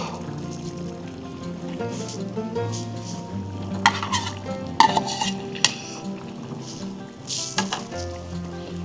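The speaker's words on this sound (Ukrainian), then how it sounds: "Тепер сюди ж відправляємо наші грибочки, які ми смажили на самому початку." Metal utensils scrape and clank against a pot as fried mushrooms are tipped in and stirred into a meat and vegetable dish, with a soft sizzle underneath and a few sharper knocks.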